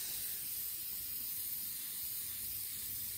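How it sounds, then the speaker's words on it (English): A steady, forceful hiss of an aerosol sealant can spraying continuously at close range over comic books, with no pauses and no talking. "Wanna spray all over the comics"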